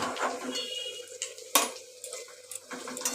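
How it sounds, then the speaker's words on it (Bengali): A utensil stirs vegetables frying in a pan for a thin bottle gourd and potato curry, scraping and clinking against the metal in short strokes over a soft sizzle, with one sharp knock midway. "দিয়ে এবার একটুখানি নাড়াচাড়া করে নিই"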